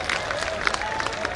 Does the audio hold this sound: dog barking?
no